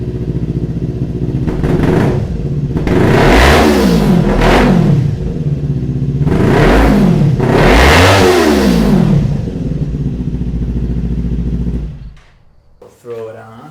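A motorcycle with a slip-on exhaust and the decibel killer removed revs hard several times, loud rising and falling engine blips, before cutting off near the end.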